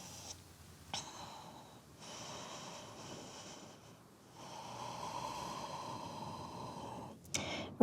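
Slow, steady breathing held during a yoga downward dog pose: soft, drawn-out breaths with a sharp intake near the start and another near the end, close and quiet, with no talking.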